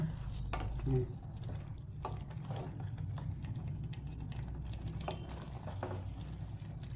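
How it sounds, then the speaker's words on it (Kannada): A utensil scrapes and stirs thick spinach chicken gravy in a pan while a low sizzle and bubbling continue steadily underneath. "ಇವಾಗ ನೋಡಿ ನೀಟಾಗಿ ಮಿಕ್ಸ್ ಮಾಡ್ಕೊಳ್ಳೋಣ."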